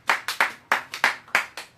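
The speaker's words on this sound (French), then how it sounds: "qu'il dise avec moi un grand Amen et qu'il applaudisse le Seigneur Jésus." A church congregation clapping hands in praise during a French-language sermon: a short, close run of about seven crisp claps in an uneven rhythm, heard alone.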